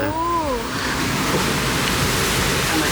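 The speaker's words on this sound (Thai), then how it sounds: "ลมแรงมาก เพราะว่าคลื่นมันสูงมาก" Strong wind roars steadily over a cruise ship deck amid high sea waves, a dense broadband rush with a voice briefly heard at the start.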